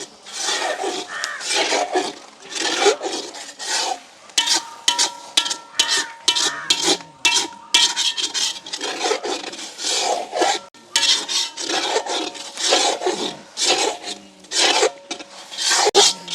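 Puttu with egg being stirred in ghee in a pan, a steady rhythmic scraping and rasping of a utensil against the pan, repeated strokes throughout, close and fairly loud with no talk.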